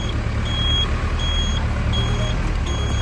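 A Gadwal bus sounds its reversing alarm: a series of evenly spaced electronic beeps repeating about once every three-quarters of a second over a low idling engine rumble outdoors, with no one talking.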